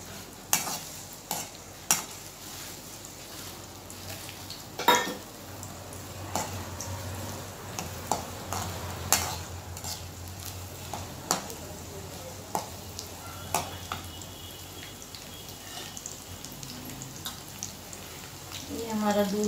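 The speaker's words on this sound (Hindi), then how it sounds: "हम इसमें प्याज डालेंगे" Onions and red chilli fry and sizzle in a pan while being stirred, a soft continuous crackle broken by sharp scraping clinks of the spoon at irregular intervals, close and fairly quiet.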